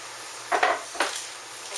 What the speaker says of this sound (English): We're going to pour our ingredients in.